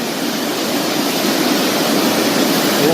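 Rushing flood water roars as a loud, continuous, even hiss with no breaks, filling the whole stretch and swelling slightly toward the end.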